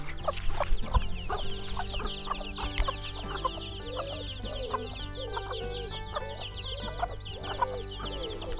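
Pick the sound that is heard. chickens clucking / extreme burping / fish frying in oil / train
chickens clucking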